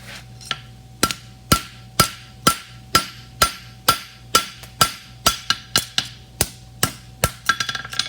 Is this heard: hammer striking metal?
yes